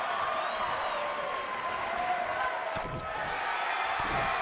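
An arena crowd at a wrestling show in Utica in WWE 2K19 roars and applauds steadily throughout, a dense, continuous wash of cheering.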